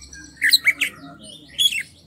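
A bird squawks nearby, two quick harsh bursts and then a third a moment later, loud against a quiet background.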